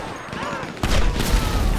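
Gunfire in GTA 5: a sudden dense volley of shots breaks in after a quieter stretch of faint background sounds, loud and continuous to the end.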